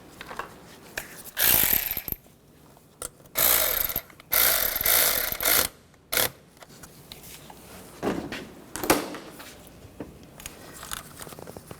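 A ratchet tightens the ground wire nut on the intake manifold of a 2011-2015 Chevy Cruze, giving close bursts of rapid clicking ratchet strokes separated by pauses, with no talking.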